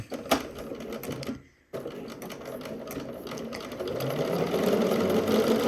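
A sewing machine runs in steady rapid stitching along a shirt collar seam, stopping briefly then resuming and growing slightly louder, close and continuous with no talking.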